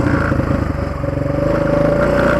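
Dragon 200 enduro motorcycle riding across clay, a close, loud, steady engine drone with a rapid pulsing throb and no talking.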